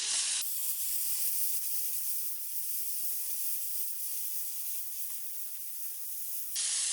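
Steady, loud hiss of a gas torch flame heating two metal pieces for brazing, a continuous roar that holds evenly for several seconds after starting abruptly, with no talk.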